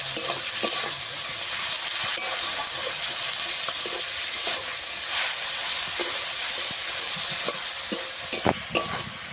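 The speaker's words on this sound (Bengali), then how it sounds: "এবারে ভালো করে ভেজে নেব পেঁয়াজটাকে" Onions sizzling in hot oil in a pan with cloves, chilli and bay leaves for a chicken dish, a loud close steady hiss broken by repeated scraping stirs.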